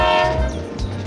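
A toy-scale railway train in a DIY tractor and farm setup rolls along with a sustained horn toot over rumbling wheels, the blast dipping and returning in short bursts.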